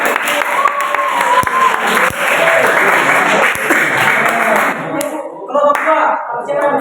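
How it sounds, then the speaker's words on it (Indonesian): Classroom students applauding a classmate for a correct answer during a micro-teaching lesson, loud continuous clapping that tapers off near the end, with some chatter underneath. "Tepuk tangan buat kamu."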